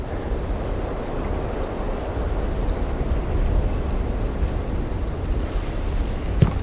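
Steady, loud wind buffeting the microphone outdoors on open elk country in Wyoming, a continuous low rumble with gusts and no speech.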